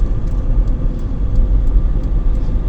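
A car travelling along a rough, rutted village road, giving a steady, loud low rumble and engine drone from inside the cabin, with small bumps and rattles throughout.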